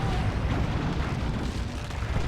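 A rumbling explosion strikes a Fire Prism tank in the Warhammer 40,000: Dawn of War 2 video game, Tyranids against Eldar. It comes as a dense, low booming roar that fills the moment, loud and with no talking.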